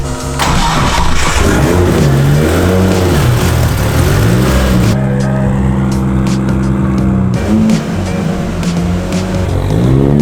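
A Nissan R32 Skyline drift car engine starts and revs hard and close, a loud rough roar with rising and falling pitch that runs throughout, then settles briefly before climbing again.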